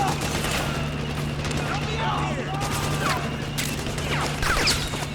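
Dense gunfire and rapid bursts crackle through a Metal Gear Solid 4 battle alongside a friendly tank, with explosive impacts over a low mechanical hum and someone talking throughout.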